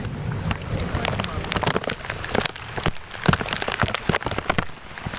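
Rain patters steadily on a nearby surface, with scattered louder drops ticking through the continuous hiss.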